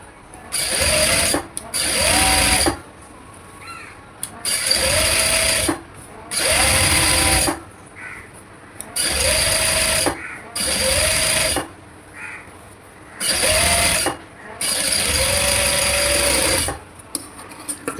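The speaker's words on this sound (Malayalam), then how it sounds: "പതുക്കെ സ്റ്റിച്ച് ചെയ്ത് കൊടുക്കാം." A sewing machine stitches an umbrella frock in repeated bursts of fast whirring, each lasting a second or two and separated by short pauses, close and fairly loud with no talk.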